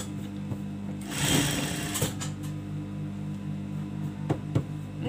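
Sewing machine stitching a second seam on an abaya, a close steady mechanical whir with a louder burst of rapid stitching near the start and a few sharp clicks later, no voices.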